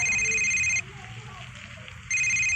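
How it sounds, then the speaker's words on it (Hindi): A telephone rings with a bright electronic tone in two bursts, breaks off for a short gap, then starts again, loud and close. "तभी गौरव का फोन बजा।"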